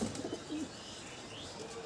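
A pigeon held in the hand beats its wings in a brief, close flurry of soft flapping, strongest at the start and then a steadier rustle.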